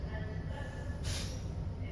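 Steady rumble of a passenger train heard from inside the carriage, with a low continuous drone and a brief brighter hiss midway.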